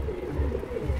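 Pigeons flutter in and coo close by, a low steady cooing murmur with soft wing rustle running through the whole second, no talking.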